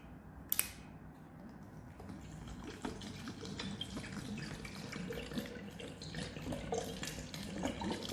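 Water pours and splashes steadily into a container for making oat milk, a moderate running stream after a brief sharp clink near the start.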